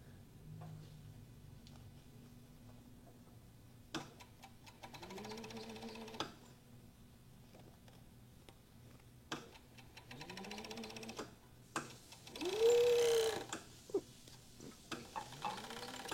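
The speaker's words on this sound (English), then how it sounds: "we just serged out that pocket on both sides" A serger sewing machine stitching along the edges of a pocket, in several short close bursts of rapid whirring separated by quiet pauses and small handling clicks.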